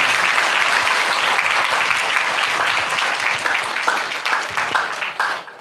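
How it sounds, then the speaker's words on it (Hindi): A church congregation claps loudly together in sustained, dense applause that stays steady and full throughout before thinning slightly near the end. "सारे लोग जोरदार ताली बजा दीजिए परमेश्वर के लिए"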